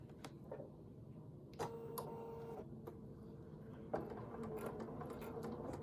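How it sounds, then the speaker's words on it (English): A sewing machine runs a straight seam, stitching in the ditch on a small appliqué quilt wallhanging, giving a quiet steady mechanical whir broken by a few sharp clicks and restarts, with no talking. "I'm just using a straight seam, and we're going to stitch in the ditch"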